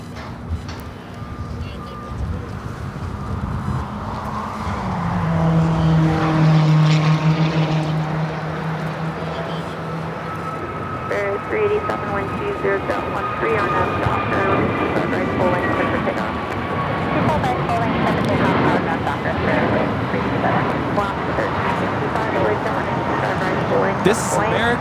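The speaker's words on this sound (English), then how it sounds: "This is American Airlines 2901 taking off to Charlotte on the A321 Neo" An American Airlines Airbus A321neo takes off from LAX, a rising engine roar with whining tonal hums and beeping that builds and holds, while voices talk over it.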